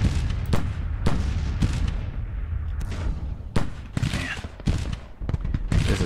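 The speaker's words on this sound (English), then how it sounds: "Fire on the 2nd Brigade." Civil War infantry firing volleys in the strategy game Grand Tactician: crackling musket fusillades and deeper booms burst out repeatedly over a constant rumble of battle.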